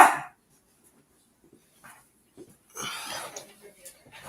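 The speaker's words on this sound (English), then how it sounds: "the dogs are going berserk" Dogs bark in a few short, sharp bursts at moderate distance between quiet gaps. The barking grows busier toward the end, with brief breathy sounds mixed in.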